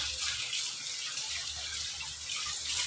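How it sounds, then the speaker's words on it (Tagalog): Tap water runs steadily into a sink while dishes are washed, a continuous close splashing rush with no talking. "Naghuhugas lang ako ng plato para habang nag-aantay ako."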